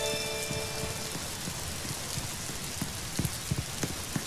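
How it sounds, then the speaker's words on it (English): Steady rainfall in the Roblox game Bloxburg patters on a surface, with scattered louder drops near the end; no voices. "Looks like it's raining outside. In the game, though, not in real life."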